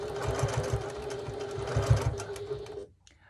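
A sewing machine stitching a 1941 gas mask bag runs in a rapid, rhythmic mechanical whir for nearly three seconds, then stops abruptly into near silence.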